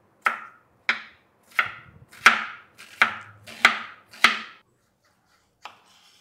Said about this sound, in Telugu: ఎర్రగడ్డనైతే చిన్న చిన్న ముక్కలుగా కట్ చేసుకోవాలండి. టొమాటోను కూడా అంతే.